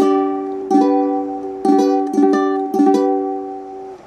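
Ukulele chords strummed in a G-chord shape fretted with index, middle finger and pinky, several clear plucked strums in an uneven rhythm, each ringing out and fading, close and alone.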